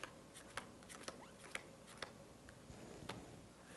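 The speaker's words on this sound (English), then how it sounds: "I'm just going to deal seven cards out." Playing cards for Pai Gow Poker are dealt out by hand, seven cards in a row, each a faint, soft snap or flick at an uneven pace in a quiet room.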